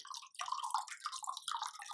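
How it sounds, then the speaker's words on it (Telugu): Water is poured from a glass into bajji batter in a kitchen, making a light, close, trickling and splashing patter that runs steadily with a brief break near the start. "ఇప్పుడు వాటర్ పోస్తాను గ్లాస్ తోటి పోస్తా"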